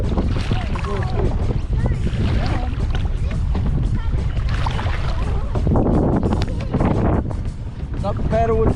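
A fishing kayak is paddled into waves on open water, with strong wind buffeting the microphone and water sloshing throughout, while a person talks over it.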